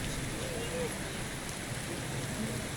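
Steady rain hisses in the Enderal video game world, a constant broadband wash of falling drops with faint voices murmuring underneath throughout.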